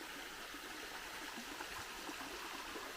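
A low-flow waterfall sliding down a broad rock face at Mary Steele Falls in the Lake Russell WMA, a steady, faint hiss and trickle of water heard from the base with no other sounds.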